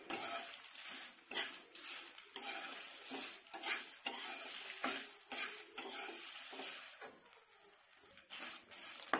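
Drumstick leaves tossed in a pan with a little oil, repeated scraping and stirring strokes with light crackles and faint clinks of utensils, close but fairly quiet with no talk.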